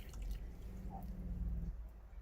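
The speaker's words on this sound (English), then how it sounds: "when you're ready to flush, again, pedal, but you're going to go all the way down" Water flushes from the toilet of a 2021 Heartland Mallard M26 RV into its black tank, a close, steady gurgling rush with dripping that lasts about two seconds.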